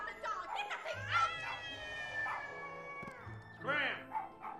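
A frightened dog howls and yips with high, wavering whines, rising and falling cries mixed with excited voices and a scene of commotion, fairly close.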